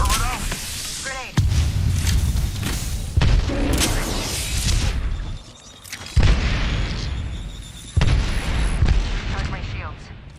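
Grenade and other explosions in a shooter video game, several heavy booming blasts at irregular intervals, loud and close, with gunfire-like bursts between them.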